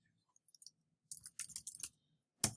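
Someone types a short burst of junk text on a computer keyboard: a few soft clicks, then a quick cluster of keystrokes and one sharper final tap, close and quiet with no talking.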